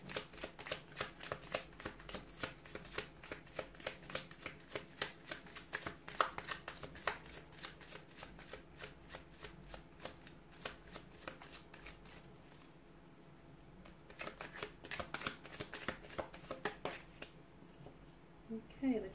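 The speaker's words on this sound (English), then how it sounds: "give the cards a shuffle" Tarot cards are shuffled repeatedly in quick, crisp riffling bursts, close up, with a short pause before the shuffling resumes.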